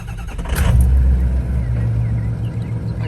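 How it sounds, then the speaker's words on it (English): A 2005 Ford F-250 Super Duty diesel with a manual transmission cranks over and starts, then settles into a loud, steady, close rumbling idle that holds to the end. "Like I say, it's a good running diesel truck."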